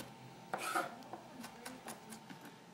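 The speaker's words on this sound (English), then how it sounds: "I just go with my knife and I go through them real fast until I get the desired size of my onion" Onions minced fast with a knife on a board for Brazilian empanadas, a quick run of crisp chopping taps, one louder burst then several lighter strokes, close and fairly quiet with no talk.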